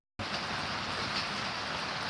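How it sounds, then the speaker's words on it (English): Steady rain falling outdoors on a morning, a dense even hiss that begins abruptly and continues without breaks at moderate level, with no voices. "watching the rain"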